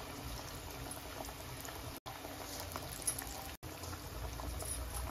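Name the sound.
masala peas vadas deep frying in oil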